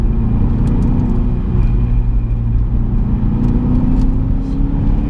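A Cadillac CTS-V V2 car driving into a corner on a dirt-dusted road, its engine a steady loud low rumble and whir heard from inside the cabin, with slight revving swells and no talking.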